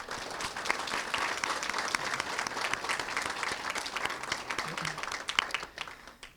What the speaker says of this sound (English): Please join me in a round of applause to celebrate all student participants' hard work